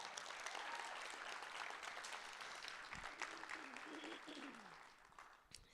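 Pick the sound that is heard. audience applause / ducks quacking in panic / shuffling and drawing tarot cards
audience applause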